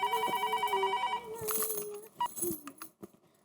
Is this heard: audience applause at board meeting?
no